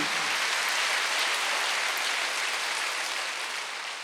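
A church congregation claps together during a Wednesday worship service, a soft, steady wash of many hands at a distance, continuous and even, fading slightly toward the end.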